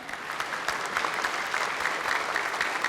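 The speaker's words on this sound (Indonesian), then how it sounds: "Boleh tepuk tangan yang meriah sekarang?" Lively, steady applause from a large audience at an Indonesian presidential debate, a dense even clapping that holds for the full length without pause.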